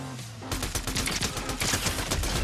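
Rapid bursts of automatic gunfire crackle in a Fortnite match, a dense run of sharp repeated shots that carries on steadily without a break.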